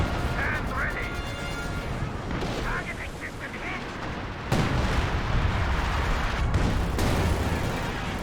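Artillery airburst rounds and anti-tank gun fire in a Company of Heroes 2 battle, dense overlapping booms and cracks with a sharp heavier burst midway, under busy game noise and faint voices.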